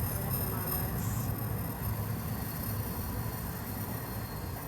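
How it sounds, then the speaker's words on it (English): Steady low rumble of a train rolling past nearby, a continuous heavy drone filling the whole stretch with no pauses. "I was just saying the train is quite distracting."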